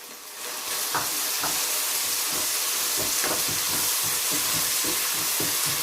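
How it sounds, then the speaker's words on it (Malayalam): Onions sautéing in a pan with ginger garlic paste and chili sauce give a steady, loud sizzle, with a few soft stirring scrapes and no voices. "ഒണിയനൊക്കെ ഒന്ന് സോട്ടായി വരുന്നുണ്ട്"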